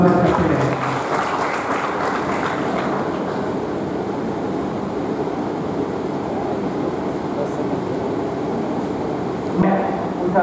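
Applause from an audience at a welcome ceremony during a university workshop, sustained steady clapping that fills the room throughout, with a brief louder burst near the end.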